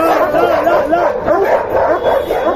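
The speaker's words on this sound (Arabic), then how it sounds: "دي كلب بلاك كوب بيقعد ده اهو" Guard dogs offered for sale at a Friday market yip and whine continuously at close range, with a busy crowd murmuring underneath.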